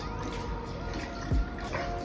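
Water pumped by a foot pedal at a 60 litre wash station runs in a soft, steady trickle, with a single dull thump from the pedal partway through.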